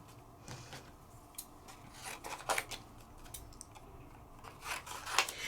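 Scissors cut a fairy shape out of paper in short, quiet snips and rustles, close by and sparse, with no talking.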